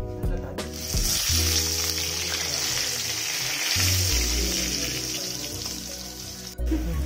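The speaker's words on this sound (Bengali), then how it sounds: "আলু ভাজা হচ্ছে" Potatoes frying in a pan during a home meal preparation, with a steady hiss under clanking utensils and a low background hum, while a few knocks break in near the start and end.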